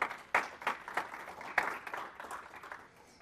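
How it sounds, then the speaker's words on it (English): Audience applause greets a systems engineer taking the stage at a Nagios conference, NWCNA 2012: a moderately loud burst of clapping with sharp individual claps early on, thinning and fading over about three seconds. "Give him a big round of applause."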